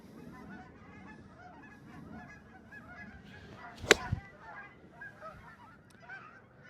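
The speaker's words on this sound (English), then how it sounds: "Right through the geese" Geese on a golf course giving a couple of loud, close honks near the middle, with softer calls and outdoor background before and after.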